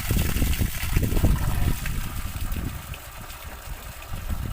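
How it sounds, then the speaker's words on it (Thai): Water gushes close up from the outlet of a solar-powered pump run by German solar panels in overcast, stormy weather, a loud, churning, uneven flow with a low rumble. "น้ำไหลแล้วครับ"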